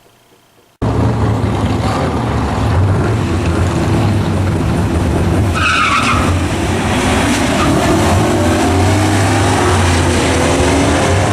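A race car roars past at a drag strip, a loud sustained engine note rising and sweeping by after a quiet opening, heard from trackside with no talking; the cars racing there are a Subaru STI and a Camaro.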